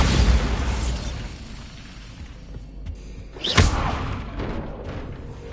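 A Bombarda blasting spell goes off in Hogwarts Legacy as a loud, booming in-game explosion that fades into a rumbling wash, with a sharp crack and thud of debris about midway.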